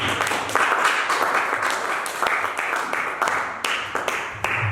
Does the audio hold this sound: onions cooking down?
no